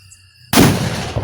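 A single sharp bang from a Diwali firecracker bursts out of near silence, leaving a rough, crackling wash that trails off over the next second.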